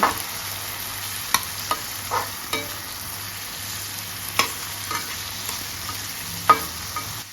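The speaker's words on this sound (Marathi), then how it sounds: "तो चांगला हलवून घ्यायचा कांद्यामध्ये।" Onions with chopped tomato cooking in a pan for a javla dried shrimp dish give a soft continuous sizzle, while a spoon scrapes and taps the pan in irregular strokes.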